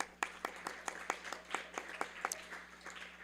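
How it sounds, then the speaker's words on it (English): Clapping for devotees at a Sunday feast rings out as a string of about a dozen crisp, evenly spaced claps over a low hum, fairly faint and with no voices. "So a big round of applause for all the devotees."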